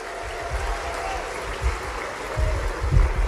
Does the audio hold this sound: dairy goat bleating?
no